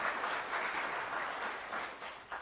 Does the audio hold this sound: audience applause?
yes